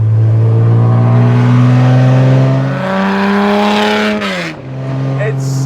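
A classic Le Mans race car engine revs loud and close, its pitch holding high, then dropping and rising with throttle changes; a voice may be talking over it.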